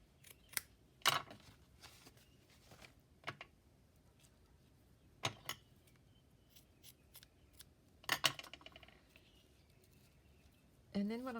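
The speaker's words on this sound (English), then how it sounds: "I'm going to cut a little piece of this lace ribbon." Scissors snip through a piece of lace ribbon in a few sharp, separate cuts spread apart, close and clear against a quiet background.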